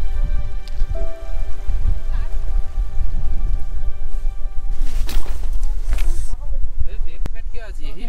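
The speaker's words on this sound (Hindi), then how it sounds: "बहुत देर से बारिश हो रही है और बहुत तेज़ बारिश हो रही है" Heavy monsoon rain falls on a trek campsite on the Kashmir Great Lakes route, with a loud, dense, continuous patter and occasional sharper drips, while a voice speaks over it.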